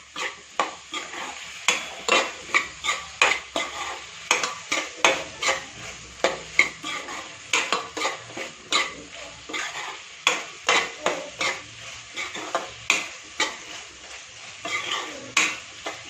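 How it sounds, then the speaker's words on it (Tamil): Brinjal (eggplant) rice, or vangi bath, stirred in a pan: rhythmic metallic scrapes and clinks of a spoon against the pan over a faint sizzle, close and steady, without any talking. "இப்போ நல்லா கிளறிட்டோம்"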